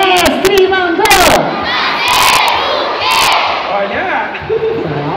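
A live audience at a children's show shouting a call-and-response answer in unison, loud massed young voices in a roaring burst with cheering and a few sharp clicks.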